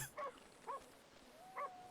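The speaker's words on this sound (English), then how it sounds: "Unless this dog is barking at it" A dog barks in a video game, three short faint yips spread over two seconds, with no talking over them.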